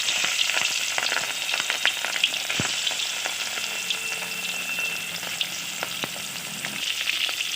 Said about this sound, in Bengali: এবার ওই তেলে মাছগুলো আমি ভেজে নেব।